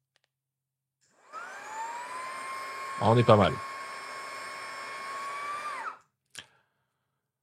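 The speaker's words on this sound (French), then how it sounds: "J'ai un mini aspirateur qui fait un peu de bruit" A small handheld mini vacuum cleaner whines steadily at close range for about five seconds on its first speed setting, then switches off; a person speaks briefly partway through.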